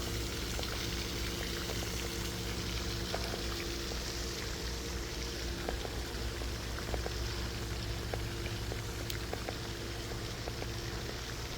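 Water at a farm pond trickles and bubbles in a soft, steady wash, faint and continuous, with occasional small drips and splashes standing out against the background.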